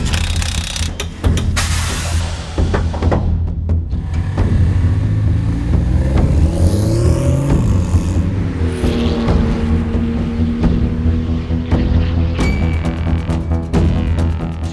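Porsche 911 GT2 RS Clubsport racing car on slick tyres at a racetrack, its engine loud and close, revving up and down through gear changes with mechanical whine and rasp, with no talk.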